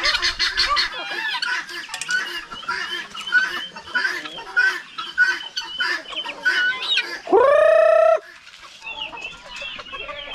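Farm chickens and other fowl in the yard: a busy mix of clucks, cackles and squawks, broken by one loud sustained honk near the end, heard fairly close with no talk.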